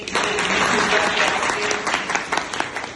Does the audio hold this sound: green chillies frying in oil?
no